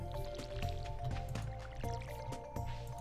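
Crops are watered from a watering can in the Stardew Valley video game, heard as repeated short splashing pours with watery drips, each burst separate and close, and no voices.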